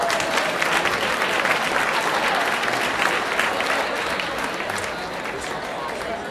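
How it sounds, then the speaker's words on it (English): Audience applause at a cancer support community spring celebration, many hands clapping steadily in a room, strong at first and tapering slightly toward the end, with some voices mixed in. "How about a round of applause for all the folks here at the Lighthouse for the wonderful work"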